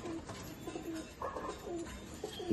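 A pigeon coos softly in repeated rolling phrases, close by but faint, with no voices over it.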